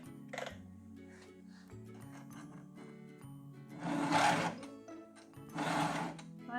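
A hand file is pushed across the teeth of a Stihl MS 261 C chainsaw chain in two loud, close rasping strokes, with quieter ticks and taps between them.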